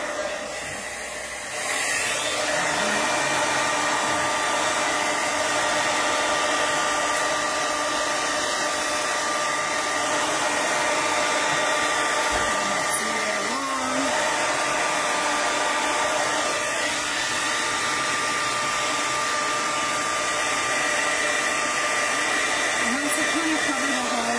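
A heat tool blows on poured paint, a loud, continuous whirring roar up close that starts after a brief moment and holds steady throughout.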